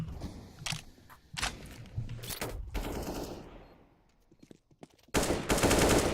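Gunfire in CS:GO on the Cache map: sharp single shots and short bursts spread through a tense firefight, then a sudden loud sustained spray at the end, with sparse quiet gaps between.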